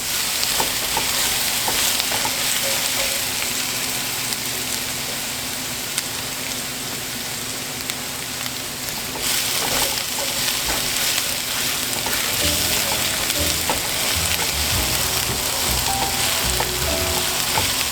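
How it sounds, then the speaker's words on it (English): Shallots and garlic frying in a pot make a loud, continuous sizzle and crackle, with spattering that grows busier in the second half and no voices over it. "So in here I have my shallots and garlic. I'm going to do this until it is lightly brown."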